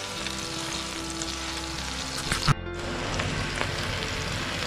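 Pineapple pieces caramelising in a frying pan over medium flame give a steady, close sizzle throughout, broken by a brief clatter in the middle.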